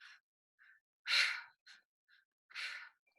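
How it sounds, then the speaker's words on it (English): A person takes a deep breath in and lets it out in two long, airy breaths, with a few softer, shorter breaths between them, close and quiet with no talking. "you take a nice deep breath into your stomach, to your chest, and then exhale"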